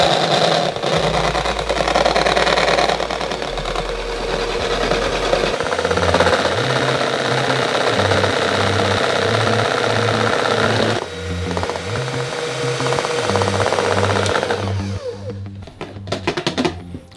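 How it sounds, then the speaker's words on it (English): An electric mixer whips instant espresso into a stiff froth for dalgona coffee, giving a steady, loud motor whir close by that shifts to a higher speed partway through, with a pulsing rhythm and no talking. "once it's gone mixing for a little bit, go ahead and kick it into high gear and really get that froth"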